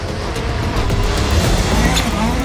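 A car drives past at speed, filmed from the side, with a broad, steady engine and tyre roar that swells gently mid-pass, fairly close and loud, with no talking over it.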